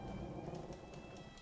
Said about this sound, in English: Eventually, it'll stop raining.